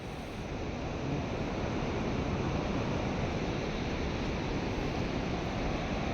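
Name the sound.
strong waves at a beach near Puerto Princesa Underground River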